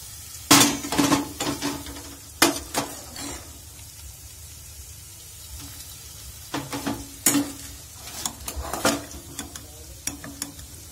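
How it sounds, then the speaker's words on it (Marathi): Okra soaked in gram flour batter hits a hot pan, giving loud bursts of sizzling with scraping stirs and clinks of a utensil against the pan, alone with no talk. "आता मी चण्याच्या पिठामध्ये भेंडी भिजवून ठेवली होती ना ती टाकते।"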